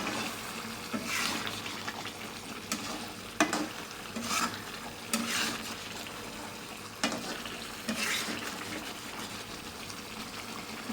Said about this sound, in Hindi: इसमें हम थोड़ा सा ऑयल डाल के इसको थोड़ा सा भून लेंगे 2 से 3 मिनट के लिए